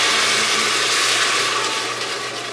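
Wine poured into a pan of toasting risotto rice for crab risotto on the stove sends up a loud, close, hissing sizzle that swells and then slowly eases off, with no voices.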